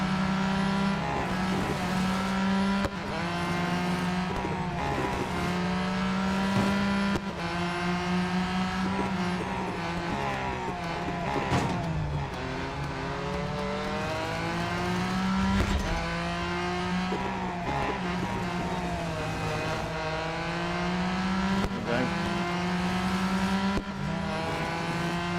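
Race car engine in Real Racing 3 at Interlagos, a loud continuous whine rising and falling through gear shifts and revs for the whole stretch, with occasional tire squeal.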